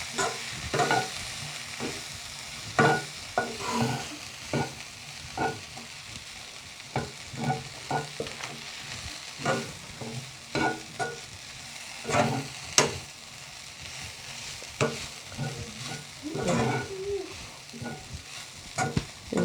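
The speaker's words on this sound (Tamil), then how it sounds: "நன்றாக கிளறி விடணும்" Puttu and vegetables are stirred in a hot pan, giving repeated scraping strokes of a spoon over a steady sizzle that continues for the whole stretch, close up with no talking.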